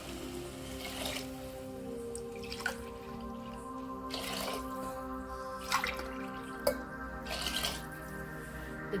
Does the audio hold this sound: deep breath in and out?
no